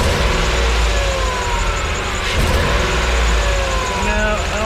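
A Ford engine runs with an exhaust manifold leak at the flange, giving a steady, loud, close rumble that continues without a break and has no talking over it.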